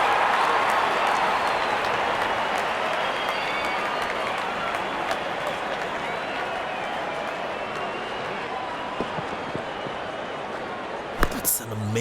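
Applause and cheering from a large cricket stadium crowd in the Real Cricket 24 game rise as a broad, steady roar that slowly fades, with a few sharp knocks at the end.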